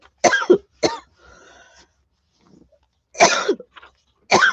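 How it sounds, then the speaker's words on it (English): A few harsh coughs, two quick ones, then a pause and two more bursts after a quiet stretch; close and loud, no talking. "I'm beginning to get a headache from all that coughing."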